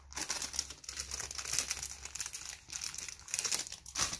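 Cards being handled and slipped into plastic pockets for a scrapbook recipe album, giving steady close crinkling and rustling of plastic with brief louder crackles, no talking.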